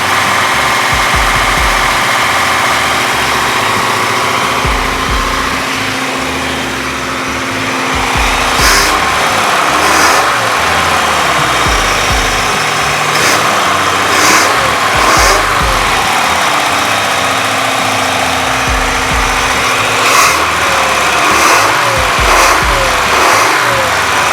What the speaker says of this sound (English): Basically trying to get the motor warm so that way our idle can drop down.